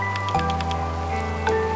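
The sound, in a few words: rain in video game A Space For The Unbound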